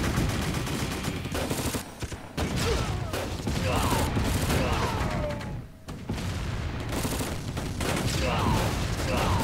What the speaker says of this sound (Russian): Так, артиллерия бьет.